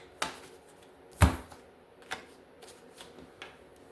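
Tarot cards are shuffled quietly, with a few separate riffles and snaps spaced out and one sharper burst near the middle, close-up and alone with no voices.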